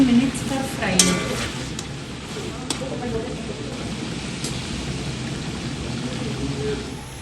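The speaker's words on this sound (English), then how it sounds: "It will take 10 to 15 minutes for frying." Chicken and prawns frying in oil give a steady, soft sizzling hiss throughout, with a few clinks and stirring sounds near the start.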